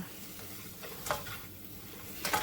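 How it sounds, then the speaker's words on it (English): Crushed, chopped garlic sizzles quietly in a pan while being stirred, with soft scraping strokes and a brief clatter at the end. The sound is faint and there is no talking. "we're going to stir this around, stir it in until it's combined. Heat the garlic up a little bit"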